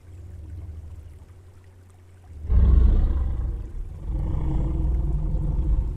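A deep, loud roaring bellow from an adult Torvosaurus in the game Path of Titans bursts in after a low rumbling stretch, then continues as a sustained, rumbling growl with no talking.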